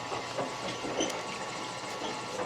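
A grinding machine crushes gold ore at a small mercury-free mine in Benguet, producing a continuous rumbling, clattering mechanical drone with rhythmic knocks, steady and moderately loud throughout.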